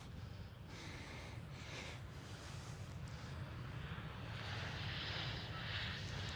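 A British Airways Airbus A320 at Amsterdam Schiphol gives a faint, distant jet roar that slowly swells over several seconds against a broad outdoor hiss.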